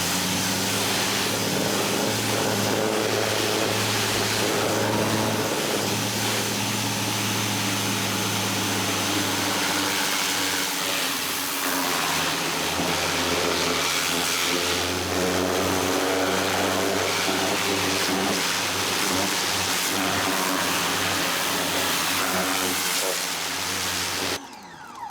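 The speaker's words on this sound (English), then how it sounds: "So let's go ahead and clean this area with the pressure washer." A Ryobi 1800psi electric pressure washer cleans house siding, its motor and spray forming a loud, continuous, steady roar that hardly varies for the whole stretch before cutting out at the very end.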